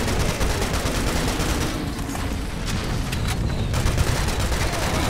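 AK assault rifle gunfire in the shooter game Serious Sam: Siberian Mayhem, a dense continuous fusillade of rapid automatic shots with booming impacts throughout, loud and close, no speech.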